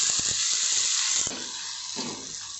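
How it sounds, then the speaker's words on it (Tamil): Onions and tomatoes sizzle and hiss steadily in a hot pan for a village-style dried fish curry, with a few soft stirring clicks near the start before the frying settles into a quieter crackle. "இப்போ வெங்காயம் தக்காளி நல்லா வதங்கிருச்சு."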